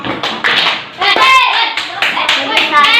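A group performs the rhythmic Indonesian spirit clap, tepuk semangat, in sharp, patterned bursts of hand claps close by, with voices chanting and speaking between the clap sequences.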